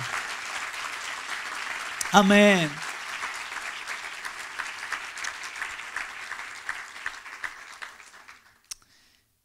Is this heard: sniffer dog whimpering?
no